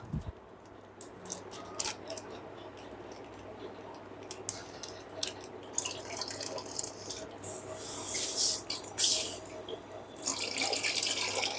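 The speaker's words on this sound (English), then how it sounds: "We will still remove some more water." Water trickles and pours unevenly as it is drained from a shipping bag holding Asian stone catfish, with small drips and splashes, growing louder toward the end in a quiet indoor setting.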